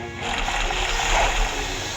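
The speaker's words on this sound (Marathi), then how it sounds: "भाई मी नदीमधून चालत जातो." Splashing, sloshing water as a character wades through a river in the video game Blox Fruits, a steady run of near splashes for about two seconds with no talk.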